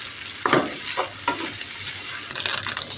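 Egg fried rice with mixed vegetables stir-fried in a pan, a continuous close sizzle broken by a few sharp scrapes and taps of the spatula, busier toward the end.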